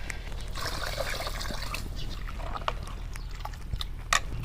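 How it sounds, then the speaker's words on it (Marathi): Water pours in a thin, steady trickle into a pan of misal curry cooking on a wood-fired stove, faint and continuous, with a light clink near the end. "आता जितकं आपल्याला रस्सा करायचा असेल तितकं आपण पाणी टाकणार आहोत"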